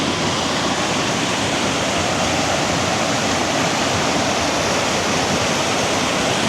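Water rushes steadily at the intermittent springs near Afton, Wyoming, a dense, unbroken roar like a close waterfall that fills the whole stretch without pause.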